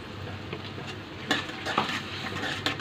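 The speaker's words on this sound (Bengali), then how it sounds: "এটাকে ভালো করে নেড়ে দেই" Chicken with salt, coriander, turmeric and chilli powder is stirred in a pan, giving soft scraping and clinks of a spoon against metal over a faint sizzle, close and unhurried.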